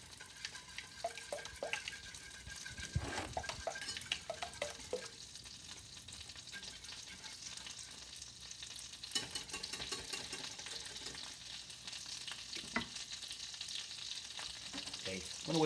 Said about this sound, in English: And let's give the sauce a little bit of a stir. Just bring the sauce to a gentle simmer.